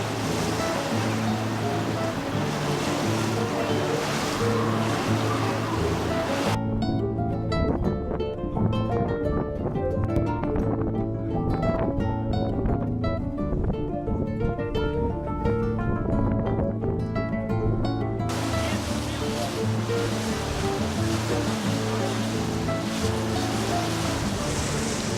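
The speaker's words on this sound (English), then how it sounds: "Here we are, almost enjoying a cruise on a river in Porto." Boat cruise on a river in Porto, with steady broadband rush of water and wind running throughout at a constant level, a brighter wash of high noise at the start and end.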